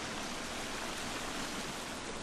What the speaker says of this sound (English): Here's a really, really loud waterfall.